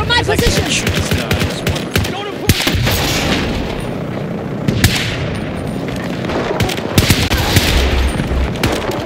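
Dense, loud gunfire in the video game Battlefield 2042: rapid automatic bursts and heavy booming shots overlap continuously, close and relentless, with distant battle noise filling the gaps.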